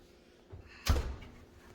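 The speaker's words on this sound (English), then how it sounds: "Can you open up the oven, please?" An oven door swings open with a single solid thunk and a short rattle, close and fairly loud in a quiet kitchen.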